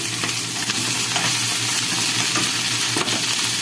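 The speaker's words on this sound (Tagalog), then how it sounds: "Nakaluto na yung ating sibuyas at syempre ilalagay na natin ang ating gulay" Vegetables tipped onto already-cooked onions in a hot pan and stirred, a loud steady sizzle of frying with intermittent scraping stir strokes, close up.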